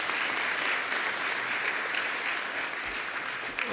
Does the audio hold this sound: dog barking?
no